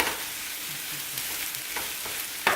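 Chopped onions fry in a pan over medium heat, giving a steady close sizzle with a few faint stirring scrapes and a brief louder crackle near the end.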